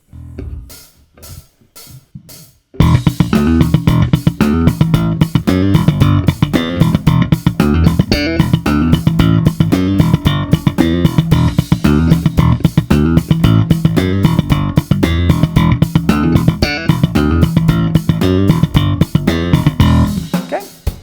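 Slap bass main riff, at about 113 beats per minute, enters after a few quiet seconds and then drives on in a tight, loud, repeating percussive pattern.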